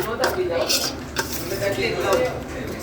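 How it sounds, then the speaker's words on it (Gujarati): Shredded red and regular cabbage being stirred and tossed together in a pan, with dense, close scraping and clattering of utensils against the pan and a light sizzle. "આ છે રેડ કોબી અને રેગ્યુલર કોબી તો સરસ રીતે મિક્સ કરી દેવાનું"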